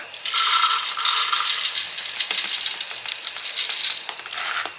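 Hanna whole grain oats poured into a blender jar, a continuous dry rattling patter of flakes striking the container for several seconds, close and fairly loud, tapering off at the end with no speech.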